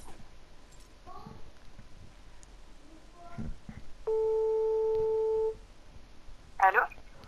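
Telephone tone during a prank call: a single steady electronic tone sounds for about a second and a half, with faint room noise and brief speech around it.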